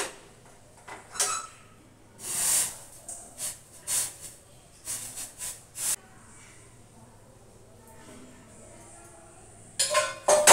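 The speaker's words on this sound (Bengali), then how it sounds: "গ্যাস অফ করে দিয়ে এবার চা ছেঁকে নিই।" Tea being strained into cups in a home kitchen, with a string of short metallic clinks and clatters of steel utensils at irregular intervals, quiet gaps between them and a brief cluster of knocks at the end.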